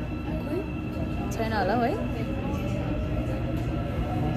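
A moving train in Seoul rumbles steadily with a low continuous drone and faint rattles, while people talk over the noise.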